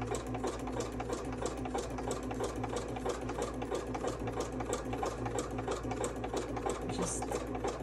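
A sewing machine stitching fabric runs steadily and close, its rapid even needle rhythm humming over a low motor drone throughout, with no pauses.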